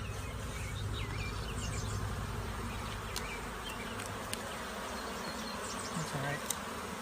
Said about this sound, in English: we got a bunch of bees